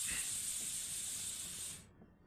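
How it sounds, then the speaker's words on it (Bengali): Water poured into a hot pan of jackfruit seeds being fried for a curry gives a loud, steady close hiss of sizzling steam that cuts off abruptly near the end, with no talking. "এই যে এখানে একটু জল ঢেলে দিলাম"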